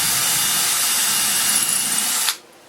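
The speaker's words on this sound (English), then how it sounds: "So what I want to do is drill a starter hole approximately at the center." A power drill bores a starter hole into a wooden shop beam, a steady close, loud whir for over two seconds before stopping abruptly, leaving near silence.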